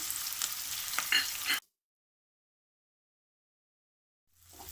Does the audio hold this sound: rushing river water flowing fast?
no